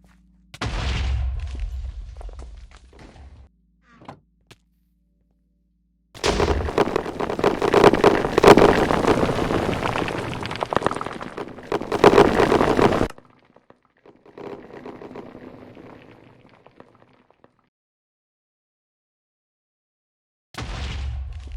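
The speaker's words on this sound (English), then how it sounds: "he did a few explosions, and well, here they are." Explosions in the video game Terrafirma: a short burst of low, rumbling blasts, then a longer stretch of loud, crackling booms lasting several seconds, a fainter rumble after, and another blast starting at the end.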